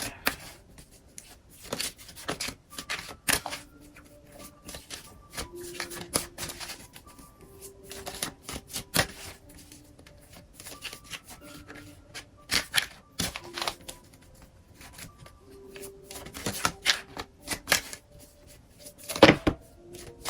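Tarot cards being shuffled for a psychic reading, with irregular bursts of riffling and slapping card sounds and soft rubbing between them, close and fairly quiet over about twenty seconds, without speech.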